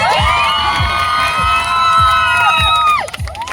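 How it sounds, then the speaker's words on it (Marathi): A crowd of spectators at an Aavishkar Premier League cricket match cheers and shouts loudly and continuously, with high whistling tones sustained above and a steady low thumping beat underneath, breaking off near the end. "त्याबद्दल प्रेक्षकांसाठी एकदा जोरदार टाळ्या"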